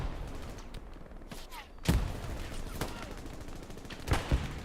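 Rockets and gunfire in a Company of Heroes battle crack out as several sharp, loud bursts spread over a few seconds, with a low rumbling battlefield din between them.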